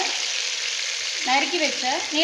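Green chilies and other vegetables sizzle steadily in a hot pan, with a brief stirring scrape partway through; no talking.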